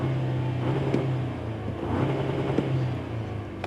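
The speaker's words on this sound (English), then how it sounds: "When you start pushing or revving the engine" Engine of a 2024 Toyota Tacoma SR5 pickup revs, a low steady hum rising and falling in two moderate swells, heard fairly close and alone.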